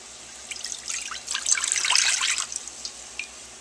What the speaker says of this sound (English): And then pour it into the crock pot.